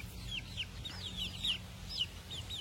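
Chicks chirp in a series of high, thin peeps repeating every half second or so, close and fairly faint over a low background hum.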